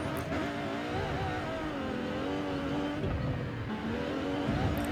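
A car engine drives up the Goodwood hillclimb in the video game Forza Horizon 5, giving a steady, loud, continuous drone whose pitch wavers slightly as it holds speed, with no talk over it.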